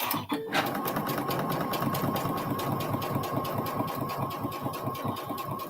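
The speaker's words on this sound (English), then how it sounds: "So I'm sewing these an 1/8 of an inch seam." A sewing machine stitches an eighth-inch seam on lightly interfaced fabric, a close, loud, fast rhythmic whir running continuously after a brief start.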